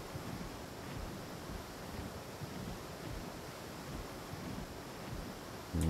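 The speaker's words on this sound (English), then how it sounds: "These waterfalls look majestic." A waterfall in ARK: Survival Evolved, a steady broadband roar of rushing, crashing water that holds evenly the whole time, close and full, with a brief louder bump at the very end.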